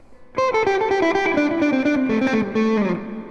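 A quick pentatonic lead lick on overdriven electric guitar with chorus, played with alternate picking as a rapid even run of notes falling toward a held final note, close and loud, no voices.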